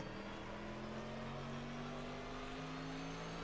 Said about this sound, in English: That's a very loud car in the distance. I can hear out of my window.